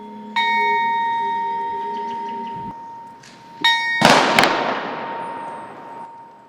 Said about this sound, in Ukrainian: У меморіальному сквері пролунав за ними дзвін пам'яті.